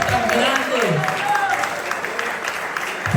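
Church congregation applauding steadily throughout, a dense wash of clapping with a voice speaking over it and a brief low tone near the start.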